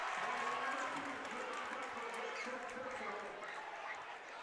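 A crowd at a North Dakota high school boys basketball rivalry game between Kindred and Central Cass cheers and murmurs steadily in a gym, a broad fairly distant roar that slowly fades slightly.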